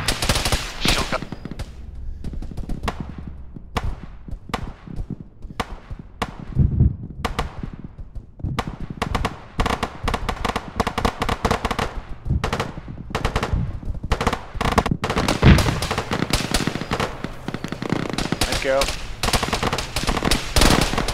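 Autocannon fire in a video game, rapid rhythmic bursts of heavy shots repeating close and loud throughout, with brief gaps and people talking over the shooting.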